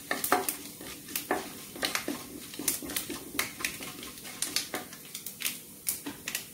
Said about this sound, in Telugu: ఇప్పుడు నేను పచ్చెనపప్పు, మినప్పప్పు, ఆవాలు, జీలకర్ర వేసాను.